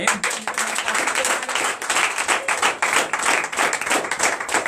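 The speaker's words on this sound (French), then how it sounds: "Je vous demande d'applaudir très fort" A church congregation at a night service of deliverance and prophecy in Comè, Benin, claps loudly and steadily in dense, continuous applause that fills the whole stretch without talk.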